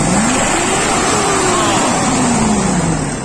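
A 2008 Mitsubishi Triton engine with a suspected injector misfire is revved, its loud, close drone rising then slowly falling in pitch over a few seconds, with no voices.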